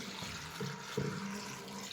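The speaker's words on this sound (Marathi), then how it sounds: "पाणी टाकून देऊ" Water is poured over fresh green pigeon pea pods, running and splashing steadily for about two seconds, close by, with a couple of brief louder gushes partway through.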